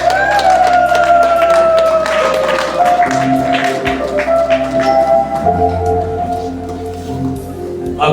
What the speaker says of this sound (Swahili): Makofi mengi kwa ajili ya maneno ya Mungu aliye hai